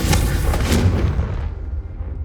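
Confringo fire spell explosion in Hogwarts Legacy on PS5, a single loud burst at the start followed by a rumbling fiery tail that fades away over a couple of seconds.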